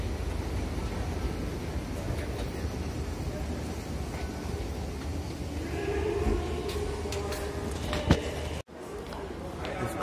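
A metro train in Doha, Qatar rumbles steadily with broad noise throughout, rising in intensity midway, with a sharp clatter and a brief sudden drop near the end as it reaches a station.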